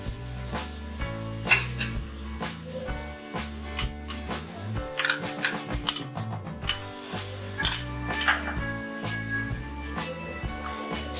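Onion fries with poppy seed paste in a pan over a medium flame, a soft sizzle with occasional stirring clinks of a utensil against the pan, under steady background music.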